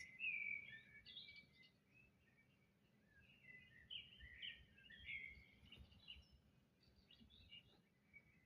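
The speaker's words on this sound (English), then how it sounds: "Bird sounds." Birds chirp and sing in short, bright, high phrases repeated throughout, fairly faint over a low background rumble, with no talk.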